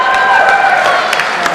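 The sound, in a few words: audience clapping and cheering at a film Q&A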